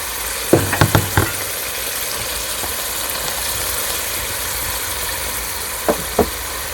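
Garlic sizzling in a frying pan while cooking an Ethiopian stew, a steady close hiss of hot oil with a few sharp clinks of a utensil against the pan, no talking.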